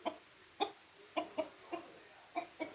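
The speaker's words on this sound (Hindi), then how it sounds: "बाकी मुर्गियाँ भी जनाब अपने अपनी जगह पे जाके बैठने वाली हैं" Hens cluck softly and sporadically while settling into their coop for the night, about eight short, separate calls, fairly close and quiet.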